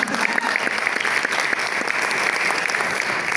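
Audience at an international theatre conference on playwriting and directing breaks into applause, a dense, steady wash of many hands clapping that holds evenly from start to finish.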